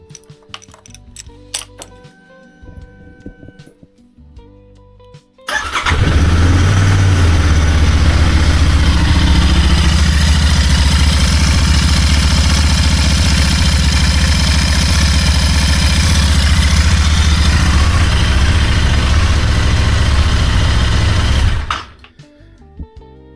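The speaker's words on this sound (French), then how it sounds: "je vais démarrer le moteur" A Royal Enfield Interceptor motorcycle engine starts up after a few faint clicks and settles into a steady, loud idle for about fifteen seconds, then cuts off.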